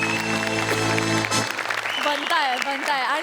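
Studio audience applause at a Marathi comedy show taping rises after a sustained tone cuts out, with a voice talking over the clapping.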